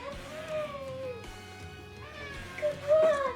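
A pet cat meows indoors in a few drawn-out, rising calls, one near the start and a louder pair near the end, with soft background music or game sound underneath and no clear talk.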